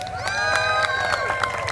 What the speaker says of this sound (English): everybody give Brayson a big round of applause